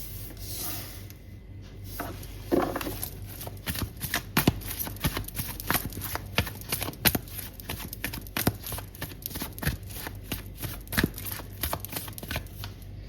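Tarot cards being shuffled by hand, a steady run of soft riffles and flicks close by, with crisp slaps at an irregular rhythm and no talk over them.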